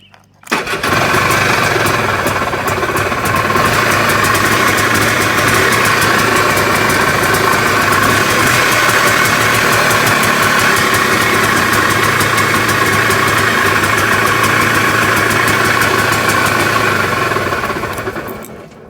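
A four-wheeler's small engine started with key and choke catches almost at once and settles into a loud, steady idle that runs close and continuous for nearly twenty seconds before cutting off.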